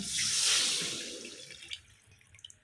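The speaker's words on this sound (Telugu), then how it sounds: "2 బౌల్స్ వాటర్ యాడ్ చేశాను" A rushing pour of water, two bowlfuls, splashes into a pan of fried vermicelli, loudest at first and then tapering to a trickle and a few scattered drips.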